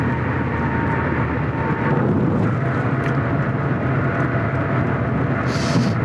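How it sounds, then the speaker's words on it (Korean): Steady, dense tire roar from a 2016 Hyundai Veloster with tires worn to the wear limit, rolling over a cement highway surface, a constant loud broadband rumble filling the cabin with no talk. "지금 이 고속도로 이 바닥 지금 시멘트 바닥에서 올라오는 마찰 소음도 좀 큰 편이고"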